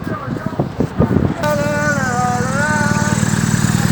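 Motorcycle engines at a motorcycle protest rumble close by, a steady drone with a rising and wavering note, following a brief stretch of talk at the start.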